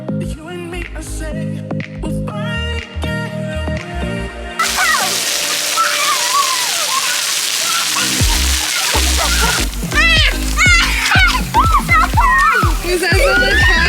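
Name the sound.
water splashing at a splash park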